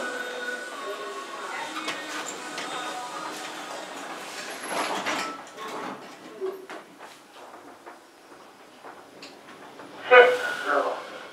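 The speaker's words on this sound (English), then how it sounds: "Doors closing." Kone lift doors sliding shut in the Debenhams department store on Bond Street, a soft steady mechanical glide over low ambient hum, with a brief louder rustle near the end and faint voices in the background.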